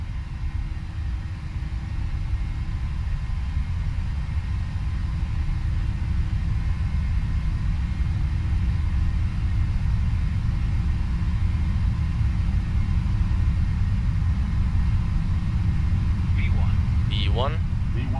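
Jet engines of a PMDG 737 NGX at takeoff thrust in the P3Dv4 flight simulator hold a loud, steady low roar and rumble throughout, with a brief higher chirp near the end.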